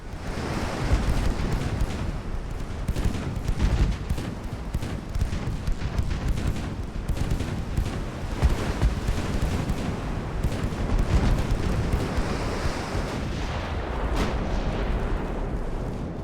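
Warship guns in an 1890-era naval battle in Ultimate Admiral: Dreadnoughts, a dense continuous rumble of booming cannon fire and splashing water with no pauses, loud and close, no voices.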